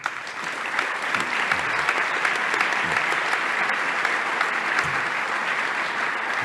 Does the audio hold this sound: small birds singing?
no